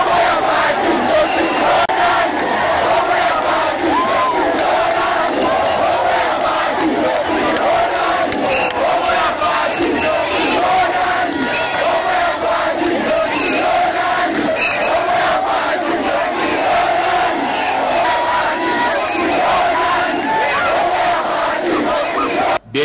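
A large crowd cheers and chants without pause to welcome an election candidate arriving in Bandundu, Democratic Republic of the Congo. The roar is loud and continuous, and the clip ends abruptly.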